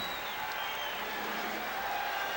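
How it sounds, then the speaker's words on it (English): Indoor basketball arena crowd at the Forum in Inglewood during a Lakers–Bulls NBA Finals game, a steady broad roar and murmur of thousands of fans filling the space continuously without breaks. "Crowd trying to get the home club going."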